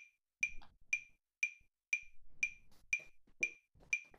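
A metronome clicks steadily at 120 beats per minute during major scale practice, eight crisp, evenly spaced ticks sounding alone and close, with faint background noise between them.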